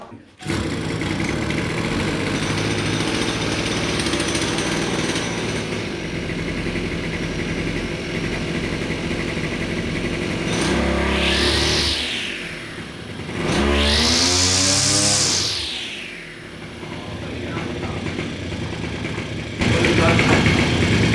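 A small two-stroke brush cutter engine runs loudly and steadily, briefly revving up higher in the middle before settling back to a rough idle.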